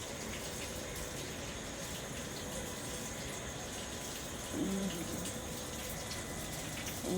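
Drinking-water tap on a platform at Hajipur Junction railway station, water running in a steady, moderately close hiss against station background noise, with a brief louder splash near the end.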